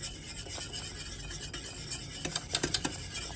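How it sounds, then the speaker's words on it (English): A whisk stirs a cornmeal and flour mixture in a pot for corn fritters, giving a steady close scraping and rubbing with light metallic clinks throughout, no voices. "just continue stirring constantly just to make sure that it cooks properly"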